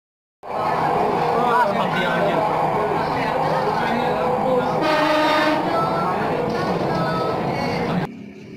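Jakarta MRT Ratangga train running during its 2019 limited trial, a loud steady rumble and rail whine filling the space, with a brief brighter hiss midway before it cuts off.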